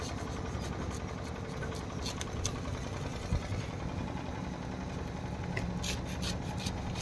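A hacksaw cuts through the packing layer of a 33kV three-core 120 sq mm HT cable during termination work, giving a continuous scratchy rasp with a few brief sharper strokes; no talking.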